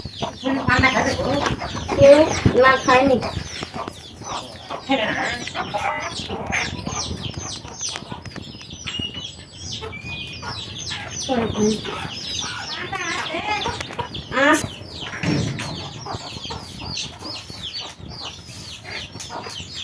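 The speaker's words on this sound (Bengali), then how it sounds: "মুরগির বাচ্চা হচ্ছে রে" Hens cluck and chicks peep continuously in a busy, close farmyard, with people talking at times beneath the steady poultry chatter.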